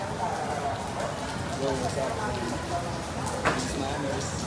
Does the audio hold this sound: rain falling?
yes